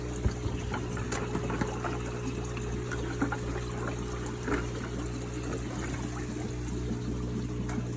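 Water from an aquarium tank pours and trickles steadily into a bucket over a low mechanical hum, with occasional splashes, close and moderately quiet.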